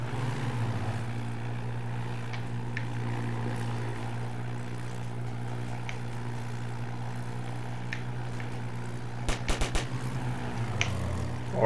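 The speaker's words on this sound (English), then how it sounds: "Orange plane stalling." Orange biplane engine in a biplane video game, a steady, buzzing propeller drone held for several seconds, then a short cluster of clicks before the engine tone shifts and falters near the end.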